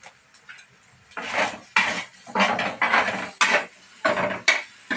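Vegetables with paneer masala stirred and tossed in a pan, giving a series of loud scraping, clattering bursts of utensil against metal, roughly one every half second, close up with no talking.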